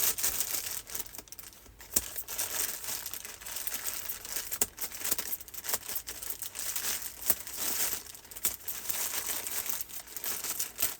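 A taped plastic mail bag crinkles and rustles close up as it is cut open, with irregular crackling bursts and a few sharp snips over about eleven seconds, fairly quiet and without speech.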